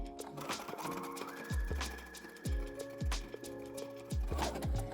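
A sewing machine runs a 3-step zigzag stitch over lingerie elastic, a quiet, steady mechanical clatter with regular rhythmic thumps throughout.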